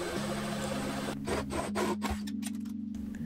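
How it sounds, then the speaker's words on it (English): A cutout hole in a wooden wine box is sanded by hand, with steady rasping strokes in close, continuous rubbing bursts over a low background hum. "Don't forget to sand the cutout area."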